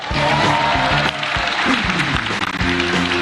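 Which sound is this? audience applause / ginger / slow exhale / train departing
audience applause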